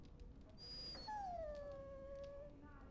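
A dog in the Dragon Age Origins video game gives a long, drawn-out whine that rises and then slowly sags, steady and close, with no talking over it.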